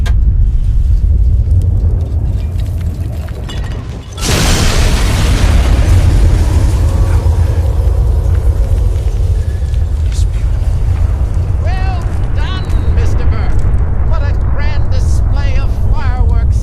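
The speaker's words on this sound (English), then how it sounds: "Another nuke we could detonate." Nuclear bomb detonating over Megaton in Fallout 3, a sudden massive blast after a brief dip, then a sustained loud roaring rumble that lingers for many seconds, with faint voices and chirpy sounds later on.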